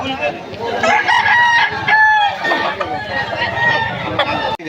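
Red Kelso gamecock rooster at a busy market in Malolos, Bulacan, crowing close and loud with clucking and other fowl nearby, under overlapping chatter of people talking.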